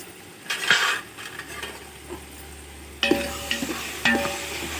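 A spoon stirs and sautés chicken biryani masala in a pot, giving soft scraping strokes over a low sizzle, with sharper clinks and scrapes near the end, close and fairly quiet.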